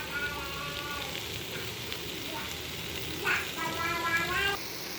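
Pineapple pieces fry in a pan with a steady broadband sizzle through the whole stretch. Brief stirring or shifting scrapes come near the end, with no talk.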